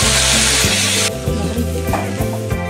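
A ginger, tomato and green chili paste hits hot oil with a loud hiss that then settles into a steady sizzle, broken by repeated scraping strokes of a spatula stirring the pan, up close and with no voices.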